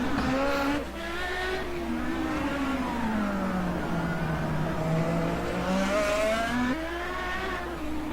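Race cars scream past on a street circuit at Long Beach, including an old Dallara car, engines rising and falling in pitch as they pass close by, loud and continuous with no talk over them.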